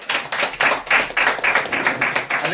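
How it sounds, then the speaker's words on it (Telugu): A church congregation claps hands in a steady rhythmic beat, about a dozen loud, close claps in an even tempo, with no voices over them. "చప్పట్లు కొడదాం దేవుడికి"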